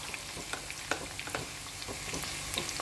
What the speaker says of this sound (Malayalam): സവാള ഒന്ന് നന്നായിട്ട് വഴറ്റിയെടുക്കണം.